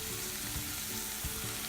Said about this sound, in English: I'm just kind of stir frying it for the next,